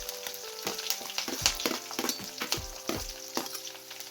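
Beans fry in a pan for a vermicelli upma while a spatula stirs them, giving repeated scraping knocks and clatters in an uneven rhythm over a constant sizzling hiss, close and clear.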